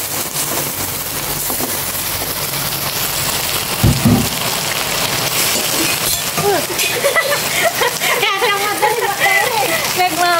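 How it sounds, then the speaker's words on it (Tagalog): Heavy rain roars steadily close by, broken by a deep thunder rumble near the middle, while voices talk over the downpour toward the end. "Lakas po ng ulan."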